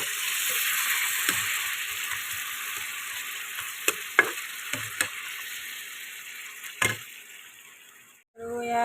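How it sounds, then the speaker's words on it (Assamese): Chopped onion and ginger frying in a pan with a little water for a sweet rice pulao, a steady close sizzle broken by a few sharp stirring clacks, with a louder clatter near the end. "এইখিনি ভাজ খালে দেখিছে ৰঙা হৈ গ'ল পিঁয়াজ আদাখিনি।"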